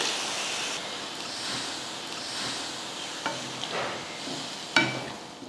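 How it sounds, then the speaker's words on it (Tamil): Water pours and splashes into a hot pan of dried-fish curry with turmeric, a broad hissing wash with a few sharp clinks and a louder knock near the end. "இப்போ தண்ணி ஊற்றிடலாம்"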